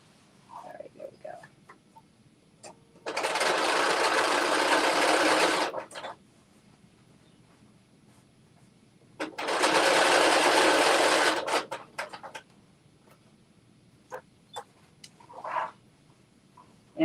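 A sewing machine stitches a seam in two steady, loud runs of about three seconds each, close by, with soft handling noises and someone talking quietly between the runs.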